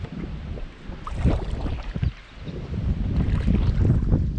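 Wind buffets the microphone while someone fishes from a small boat on open water, a loud rushing gust that dips briefly and then builds again, with no voices.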